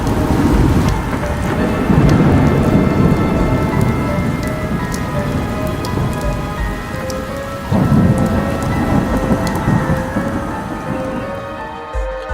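A heavy thunderstorm pours down, with loud, dense rain and rolling thunder filling every moment and a low rumble swelling twice. Faint sustained tones ring underneath.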